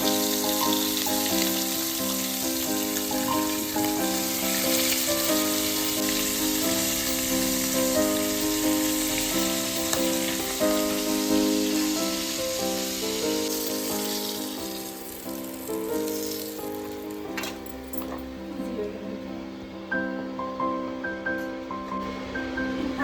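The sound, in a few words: magur fish frying in hot oil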